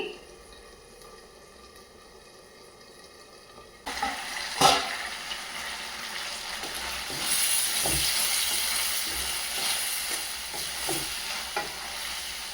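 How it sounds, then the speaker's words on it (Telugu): Finely chopped tomatoes hit hot oil for tomato pappu and sizzle steadily after a quiet start, with occasional stirring clicks and a continuous frying hiss close by. "సన్నగా తరిగిన టమాటాలు ఆయిల్లో ఫ్రై చేసుకోవాలి"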